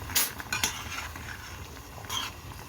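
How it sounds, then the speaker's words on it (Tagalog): Utensil scraping and clinking in a pot while rice-cake soup with egg and green pepper is stirred, a few brief bright scrapes over a quiet simmering background, close and fairly faint. "Haluin natin."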